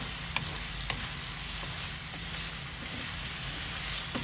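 Potatoes fry in oil with a cooked spice paste, giving a faint, steady sizzle with occasional soft stirring taps throughout.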